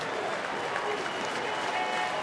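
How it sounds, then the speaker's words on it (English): A sellout baseball stadium crowd at a Yankees–Tigers game cheers and applauds in a broad, steady roar that fills the whole moment. "Here comes the crowd now."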